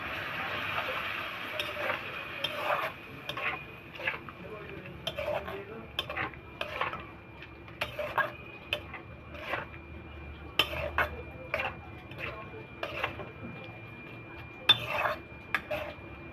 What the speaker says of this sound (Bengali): একটু ভেজে নিই মশলাটাকে কষিয়ে নিই